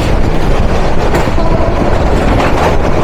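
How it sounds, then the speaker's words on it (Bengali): The Mahanagar Express, intercity meter-gauge train 722 from Dhaka to Chittagong hauled by a 3000-class locomotive, rushes past on a double line, a loud, close, continuous roar of wheels and carriages. "এখন আমাদের সাথে দেখা হবে ঢাকা থেকে চট্টগ্রাম অভিমুখী ট্রেন নাম্বার 722, বাংলাদেশের সর্বপ্রথম মিটার গেজ আন্তনগর ট্রেন মহানগর এক্সপ্রেসের সাথে"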